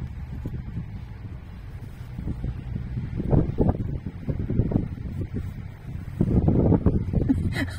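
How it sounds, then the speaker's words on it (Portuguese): Wind buffeting a microphone outdoors during a hand embroidery session, a steady low rumble that swells into louder gusts around the middle and again near the end, with no voices. "O vento não quer deixar eu bordar"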